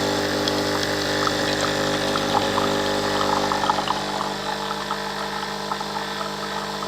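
A Nescafe Dolce Gusto Oblo coffee machine pumps vinegar descaling water, giving a steady mechanical hum and drone with faint irregular gurgles and clicks throughout, fairly loud and continuous.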